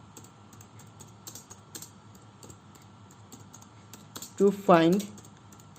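Steady tapping on a computer keyboard runs through the background, soft and continuous, before a brief spoken phrase near the end.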